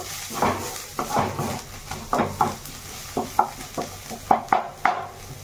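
Onions frying in a pan for a bottle gourd curry, stirred with clacking utensil strikes against the pan at an irregular pace over a faint sizzle.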